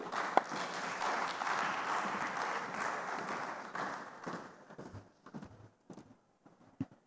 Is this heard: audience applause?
yes